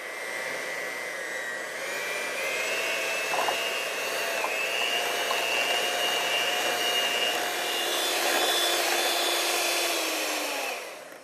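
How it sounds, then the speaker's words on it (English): A kitchen blender whirs steadily through a no-bake pumpkin cheesecake filling, its high motor whine running for about ten seconds with slight shifts in pitch before it stops. "So we're just going to give this a blend until it's nice and smooth."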